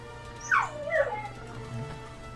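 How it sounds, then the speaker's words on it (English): A dog gives a short, whimpering howl: two quick, high, wavering cries that slide downward, fairly close, followed by a faint lower whine, with no speech over it. "She's howling at Andrew in the shower because she's all confused."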